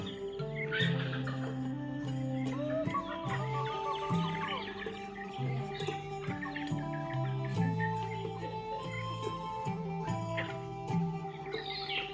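Chickens cluck steadily in a rural Thai village yard, layered calls overlapping with scattered higher bird chirps and a rooster-like note, continuous and fairly close, with no talking.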